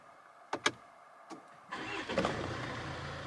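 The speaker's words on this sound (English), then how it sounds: "I'm just going to start my car up." A Jaguar car that has sat unused for a while starts up: a couple of sharp clicks and a short starter crank, then the engine catches and settles into a steady idle with a low rumble.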